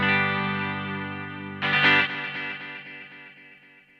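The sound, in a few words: Strymon Volante tape echo guitar effect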